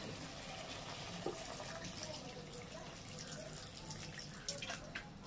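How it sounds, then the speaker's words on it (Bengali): Water poured into a cooking pan of paneer, cauliflower and peas, a faint steady trickling splash that continues throughout with a few small drips. "এবার এর মধ্যে দিয়ে দেবো জল।"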